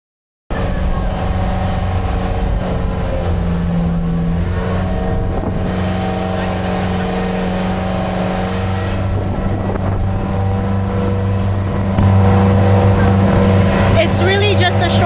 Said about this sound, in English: It's really just a short boat ride.